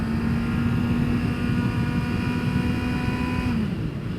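A 2022 Honda CBR650R sport motorcycle pulls away under steady acceleration, its engine note a sustained loud drone with a clear rising-then-settling tone, continuous and close with no talk.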